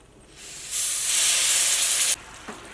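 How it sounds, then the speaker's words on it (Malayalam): Water poured into a hot carbon steel pan gives a loud, steady hiss that swells sharply, holds for about a second and a half, then cuts off abruptly, with a faint brief tap afterward. "ഇതിലേക്ക് ഞാനിവിടെ ഇത്രയ്ക്ക് വെള്ളം ചേർക്കണുണ്ട്."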